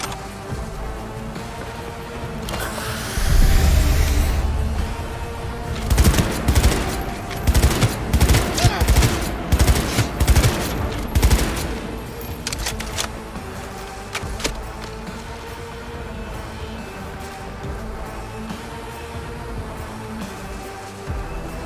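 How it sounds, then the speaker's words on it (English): Bursts of rapid gunfire and machine gun fire erupt in a firefight in the video game Cyberpunk 2077, a dense loud volley of shots in the middle over steady background game noise. "All units report. Opening fire."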